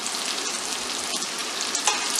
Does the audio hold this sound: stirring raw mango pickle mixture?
yes